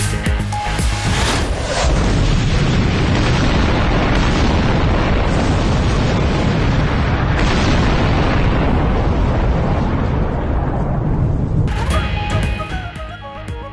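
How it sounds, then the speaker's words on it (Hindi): Missile strikes explode over Israel, including Haifa, in news footage. A loud, sustained, rumbling roar with crackling bursts fills nearly the whole stretch before easing off at the end. "इसराइल पर मिसाइलों की बारिश कर दी। शुमैना और हैफा में धमाके सुने गए।"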